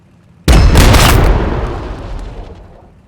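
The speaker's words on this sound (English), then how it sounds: "Okay, let's shoot. Firing cannon!" A cannon shot in the video game Warhammer 40K Battlesector, with Astra Militarum facing Tyranids: one loud, sudden booming blast, a crackling burst that rumbles and decays over about two seconds.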